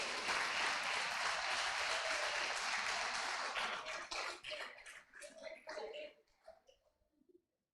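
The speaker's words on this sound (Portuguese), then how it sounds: "Isso, pode aplaudir o Senhor." A church congregation applauds in dense, steady clapping that holds for a few seconds, then thins into scattered claps and fades out.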